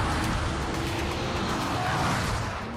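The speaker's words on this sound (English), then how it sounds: "This is the GTR. Brutal acceleration." A Nissan GTR accelerates hard, its engine a loud continuous roar with tire and road noise, close and sustained for a few seconds.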